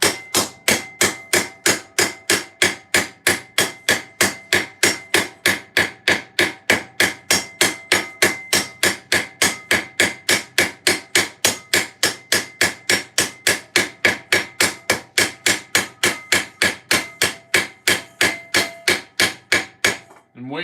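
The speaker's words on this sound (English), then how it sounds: "the secret to a well-peened rivet is the smallest ball-peened hammer that you got" Small ball-peen hammer peening rivets on armour in a garage: a long, steady run of sharp, evenly spaced metallic strikes, roughly three per second, close and loud, with no talking.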